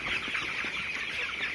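Broiler chickens about 21 days old, in a poultry house of around 600 birds, give soft overlapping clucks and chirps, a steady busy flock murmur without speech.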